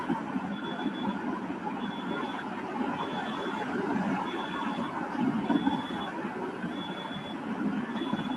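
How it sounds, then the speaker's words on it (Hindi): A faint, high electronic beeping repeats at a steady pace, roughly once a second, under a low background rumble. No one speaks. "अलार्म बहुत ही हल्की सी आवाज आ रही है मुझे कहीं से।"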